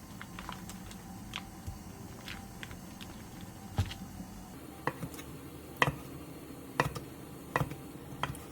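A knife slices store-bought sundae, Korean blood sausage, into bite-size pieces 2 to 2.5 cm thick, giving sharp, distinct chops against a board at an uneven pace, some louder than others, over quiet background and no talk.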